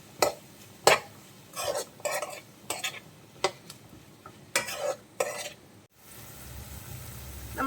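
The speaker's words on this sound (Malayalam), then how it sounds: "ഫ്രോസൺ ഗ്രീൻ പീസ് കേട്ടോ, പിന്നെ നമ്മുടെ ബീൻസും പച്ചമുളകും. ഇതെല്ലാം ചേർത്ത് നന്നായിട്ട് നമുക്കൊന്ന് വഴറ്റിയെടുക്കാം." Frozen green peas, beans and green chillies sautéing in butter in a pan, heard as a series of scraping stirs and clinks over a low sizzle, then a quieter steady frying hiss at the end.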